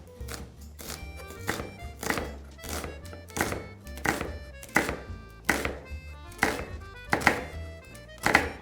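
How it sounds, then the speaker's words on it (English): A knife finely chops soffritto vegetables for classic lasagne on a cutting board, about a dozen sharp, regular thunks in a quick steady rhythm, close and alone with no voices. "Now you're gonna start to chop it really fine."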